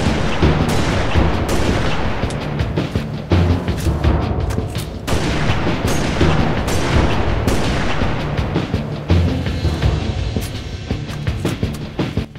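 The SRS-99 sniper rifle in Halo Reach fires repeatedly, loud booming shots at a steady pace of roughly one every one to two seconds, each with a long echoing tail, interspersed with reload clicks.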